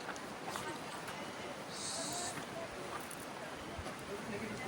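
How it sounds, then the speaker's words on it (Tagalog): Steady, strong wind roars across the whole clip as broadband rushing noise at a campsite in Zambales, Philippines, with gusts buffeting the microphone and some faint background sounds. "super lakas ng hangin dito."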